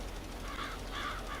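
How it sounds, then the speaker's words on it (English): A crow in the video game Farming Simulator 22 gives a couple of short harsh caws over a steady low background hum. "Oh, get out of there, crow."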